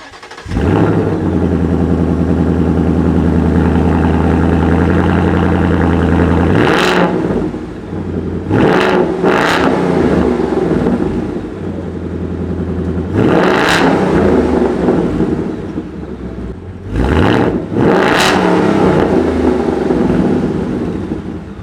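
A Ford Mustang fitted with a new loud aftermarket exhaust idles with a deep steady rumble, then is revved hard several times in sharp bursts, close and loud with no talking.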